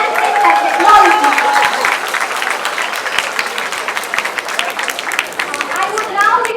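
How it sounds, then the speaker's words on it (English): A festival audience at a college youth event gives sustained, dense applause for a solo Western dance winner, a continuous wash of clapping with chatter and cheering mixed in. "please let us give a huge round of applause for the first winner of solo dance Western category"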